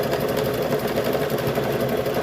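A sewing machine runs a blanket stitch on a car seat cover, its steady fast mechanical whir continuous and close throughout, with no voices.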